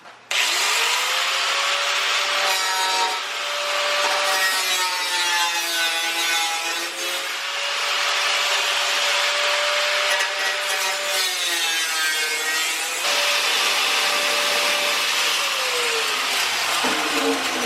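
Cutoff wheel slicing through Jeep YJ fenders, a loud continuous high-pitched grinding screech held for most of the stretch with slight pitch dips as pressure changes, then winding down at the end.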